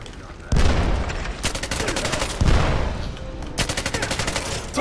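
Loud, rapid gunfire from a James Bond video game gun comes in dense automatic bursts with short pauses between volleys, up close and dominating the mix.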